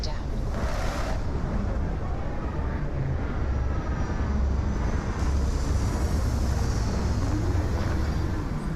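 A spaceship sets down on a planet in the video game Starfield, a loud, sustained roaring rush of engine and wind-like noise with a few tonal whines, constant throughout.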